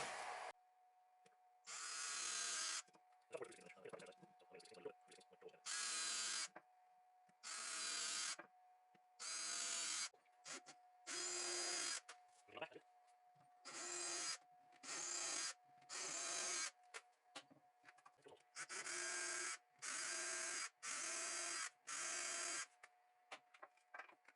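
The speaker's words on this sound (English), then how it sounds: "So I'm going to drill holes straight through this board" A power drill bores holes straight through a wooden board that will serve as a drill guide for a corner cabinet, in a dozen or more loud bursts of whining motor separated by short pauses, with no talking.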